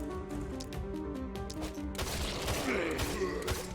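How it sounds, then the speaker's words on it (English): A magic missile spell cast in the video game The Last Spell, a burst of sharp crackling impacts and a rushing blast over a droning musical background, loud and dense for a couple of seconds. "Magic missile again."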